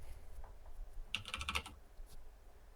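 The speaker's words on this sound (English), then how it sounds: "Can I type?" Typing on a computer keyboard, a brief quick flurry of light clicking keystrokes lasting under a second, fairly faint against a quiet room.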